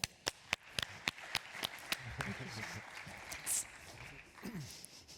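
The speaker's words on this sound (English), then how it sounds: "A round of applause, please, for Dr. Charlotte Schildt." A small group claps sharply after a talk on surviving insolvency, with distinct, evenly spaced claps that gradually thin out and fade, followed by quieter room sounds.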